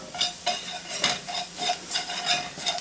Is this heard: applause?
no